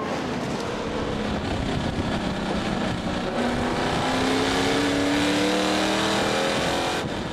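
Ferrari 458 race cars battling at Zolder in a supercar race, engines roaring continuously and loudly, with rising revs sweeping upward as the pack powers past.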